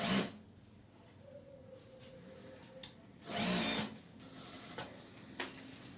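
A tailor's sewing machine runs in short bursts while stitching a waistcoat. The motor whirs quietly and close, with brief louder runs and clicks between pauses.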